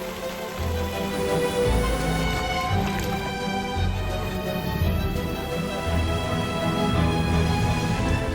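Steady rain pours down during rainy-season flooding on Koh Phangan, Thailand, a dense continuous hiss with low rumbling underneath, loud and unbroken throughout with no talking.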